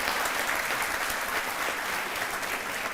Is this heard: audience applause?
yes